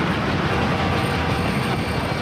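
A train passing close by in a public service announcement: a loud, steady rumble with rattling wheel clatter and a faint metallic squeal, heard alone with no voices.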